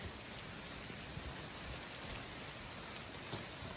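Steady patter of melting snow dripping from trees, dense and continuous like light rain, with scattered louder drops landing close by.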